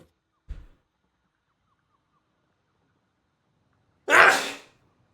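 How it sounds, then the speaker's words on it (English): A single sharp human sneeze bursts out near the end after long quiet, preceded by a faint low thump early on; no talking. "I'm about to sneeze."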